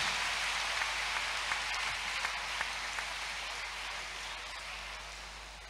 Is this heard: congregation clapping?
yes